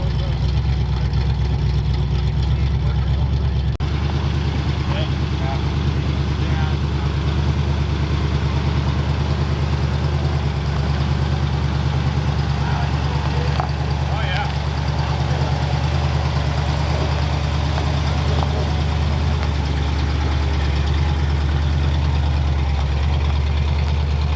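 The engine of a Ford F-250 truck, abandoned for 21 years, runs steadily while the truck drives: a loud, continuous low rumble throughout, with faint voices in the background.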